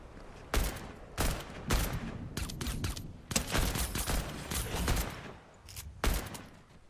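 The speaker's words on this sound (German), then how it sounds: "Der wird geschossen schon in der Luft." Gunfire in the video game Fortnite: bursts of rapid shots and single cracks crowd the mix at moderate level, with steady game ambience underneath and no talking.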